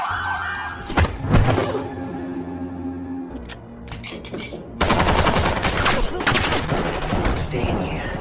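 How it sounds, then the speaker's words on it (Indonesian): A police patrol car siren wails in a tense crime-thriller scene, mixed with sharp gunfire-like bursts and dense, loud action noise that swells toward the end. "terdengar suara sirene mobil patroli"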